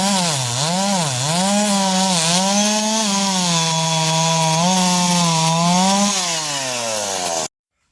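A chainsaw engine runs loud and close, its whine rising and falling with throttle blips, then holding a steady high idle before dropping in pitch and cutting off abruptly near the end.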